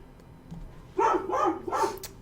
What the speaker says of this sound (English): That's Sam, the guard dog, next door.